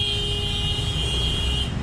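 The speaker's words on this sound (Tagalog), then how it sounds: "Sige, busina lang ng busina kayo dyan." Traffic on a road in Bulacan drones steadily, with a sustained car horn blaring over the engine rumble for a couple of seconds.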